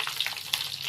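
Cumin seeds and two dried red chilies crackling in hot oil for a tempering, quick close sizzle with small popping bursts in a brief stretch.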